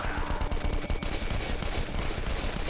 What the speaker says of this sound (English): let's try the Tommy gun